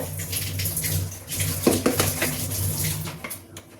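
Water sloshing and rinsing inside a mixer grinder jar in a home kitchen, with a tap running and light clinks of the jar and utensils, fairly quiet and close.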